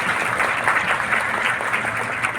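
Steady applause from an audience at an award ceremony honouring toppers of the intermediate and matriculation exams at Gyan Bhawan, Patna, dense clapping filling the hall without a break.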